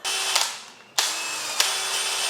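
A loose, worn power drill runs in short bursts, a harsh whirring with rattling clicks that stops briefly, then starts again sharply and continues, close and fairly loud.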